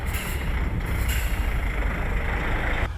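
Heavy trucks hauling humanitarian aid rumble steadily nearby, with bursts of air-brake hiss rising over the continuous engine drone.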